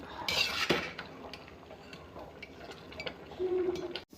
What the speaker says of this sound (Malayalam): ഇതിൽ വെള്ളമില്ലാതെ കോരി എടുക്കണം